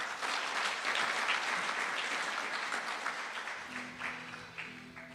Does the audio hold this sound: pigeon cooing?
no